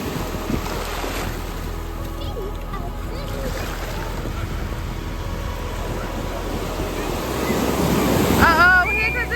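Ocean waves break and wash on Long Beach at sunset, a continuous roar of surf with wind buffeting the microphone, swelling louder near the end as a bigger wave arrives.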